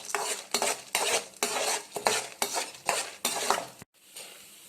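Chana dal dry-roasts in a pan for idli podi, a loud rhythmic rattle of the lentils and scrape of the spatula about once a second, ending in a brief pause and quieter residue.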